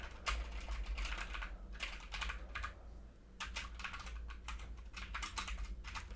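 Someone is typing at a computer keyboard. The keys clatter in quick bursts with short pauses between runs, close up and fairly quiet, and no one speaks.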